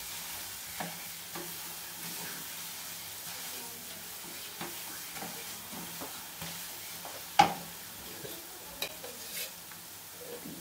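A mango burfi mixture is stirred in a pan, with soft scraping strokes and faint sizzling at low level and a few sharper spoon clicks against the pan.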